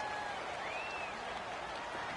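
Steady, loud stadium crowd roar at a home football game in a PS4 video game, a continuous wash of cheering with faint whistle-like tones rising above it and no pauses.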